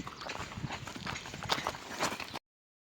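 Horse hooves clip-clop on the road as a horse-drawn tonga cart passes, a quick irregular clatter of strikes, moderately close and fairly faint, ending abruptly.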